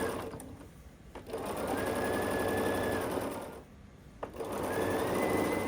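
A sewing machine stitches vertical sashing onto quilted valentine placemats in two long, steady running bursts separated by a short pause, close and clear with no talk.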